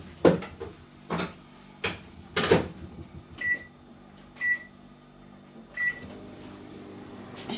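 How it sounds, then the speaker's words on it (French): A microwave oven runs for a short softening burst on butter, its low steady hum broken by several sharp knocks and cupboard-like clatters, then three short high beeps near the end, no voices. "je vais le mettre 10 secondes au micro-ondes, histoire de le faire ramollir un petit peu"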